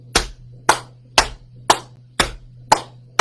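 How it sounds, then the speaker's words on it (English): Hands clapping and slapping knees during a children's story-time song, six sharp, evenly spaced smacks about half a second apart, loud and close with no talking. "we're going to clap and hit our knees"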